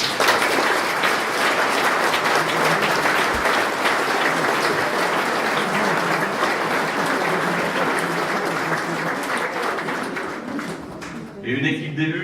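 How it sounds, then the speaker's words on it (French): Sustained applause from a large audience at a town New Year ceremony in Cesson, dense steady clapping that fades slightly near the end. "Je propose de les applaudir tous."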